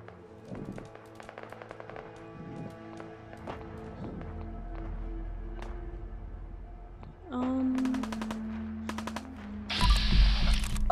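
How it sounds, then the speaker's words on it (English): Bursts of gunfire in Fallout 4 VR, scattered sharp reports and short rapid volleys at middle distance, layered with footsteps and game effects, louder clusters arriving near the end. "I hear gunshots."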